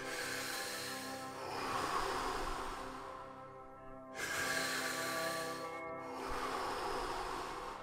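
Slow, deep breaths come close to the microphone, each long airy inhale swelling and then breaking off into a brief pause before the next, rhythmic and unhurried.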